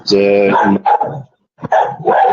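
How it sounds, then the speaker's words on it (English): A pet dog barks loudly and close by at a home during an online meetup, with a short sharp bark and a quick follow-up. A voice talks over and between the barks. "excuse my dog"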